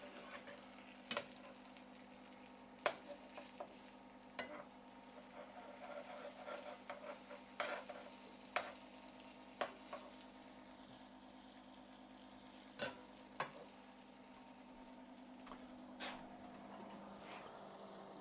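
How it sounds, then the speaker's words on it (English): Steady frying sizzle of asparagus in a pan, a continuous hiss with occasional sharp clicks and pops of stirring or utensils scraping, fairly quiet throughout. "Veggies are sizzling."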